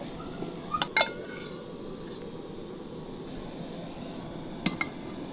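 Cooked jackfruit seeds are tipped into a vessel with a few sharp clinks of metal utensils and dishes over a steady background hum, a pair of clinks early and another near the end.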